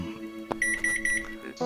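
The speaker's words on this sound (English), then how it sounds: "Suddenly you hear your crime watch beeping in your bedroom." A crime watch beeping in a bedroom, given as a rapid run of about six high, even electronic beeps over a toned, musical backdrop, with a sharp hit before and a brighter burst at the end.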